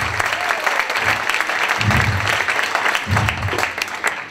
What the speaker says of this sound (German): Applaus für Yvonne.